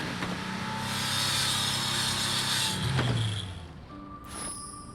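A blade is ground on a sharpening wheel in the video game Detectives United: a steady, loud grinding whir that runs about three seconds, then cuts off into a softer scrape and a brief metallic ring.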